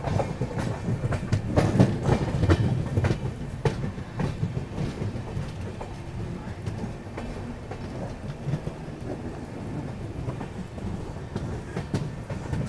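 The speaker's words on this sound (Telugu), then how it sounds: "సో మన ట్రైన్ అయితే మెయిన్ లైన్లోకి స్విచ్ అవుతుంది." The Mandovi Express on its Mumbai to Goa run switches onto the main line, with a loud, continuous rumble and rhythmic wheel clatter over the rail joints that comes and goes, and no voices.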